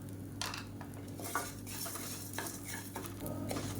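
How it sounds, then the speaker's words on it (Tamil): Grated coconut dry-roasting in a pan over a medium flame, with a spoon scraping and stirring in steady repeated strokes and light metallic clinks against the pan. A faint low steady hum runs underneath, and no one speaks. "இது கூடவே ஒரு ரெண்டு டேபிள் ஸ்பூன் துருவண தேங்காய் இதையும் சேர்த்து நல்லா கோல்டன் கலரில் வறுத்துக்கலாம்"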